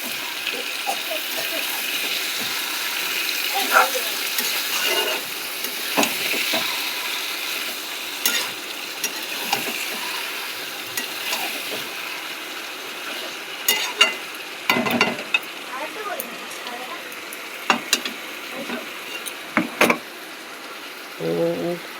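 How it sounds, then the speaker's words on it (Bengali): Marinated meat is stirred and fried in a pan, with a continuous soft sizzle broken by intermittent scraping and clattering stirring strokes, close and fairly loud. "আগে মাংসটা নেড়ে নিই"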